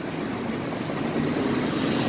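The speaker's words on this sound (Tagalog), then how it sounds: "Oh, may sasakyan mabilis." A steady broadband roar of a fast car rushing past on a road near Vista Mall Daang Hari in Bacoor, Cavite, loud and continuous, swelling slightly as it goes by.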